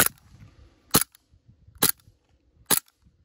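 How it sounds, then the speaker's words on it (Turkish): A CO2-powered Desert Eagle air pistol fires three sharp, loud cracks about a second apart, each one short and snappy, with quiet handling noise between shots. "Karbondioksit olduğu için inanılmaz bir güç var. Yani gerçekten tabanca tepiyor."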